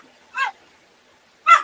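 A dog indoors gives two short, sharp barks about a second apart, fairly close, with quiet in between.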